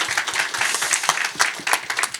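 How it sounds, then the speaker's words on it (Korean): Applause from a conference audience, a steady patter of many hands clapping close by with no voices over it. "박수 안 주시나요?"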